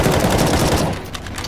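Rapid automatic gunfire from an M4 rifle in the video game CS:GO Zombie Escape, a loud, dense burst of shots close up that carries on for the whole short moment.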